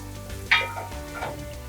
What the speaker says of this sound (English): The masala we roasted earlier, we're going to add that to the onions now. We're going to mix it all together.